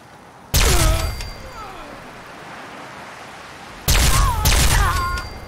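A laser weapon in a video game fires two loud, sustained blasts with bright rising whines and a hissing roar, separated by a quieter stretch of background noise.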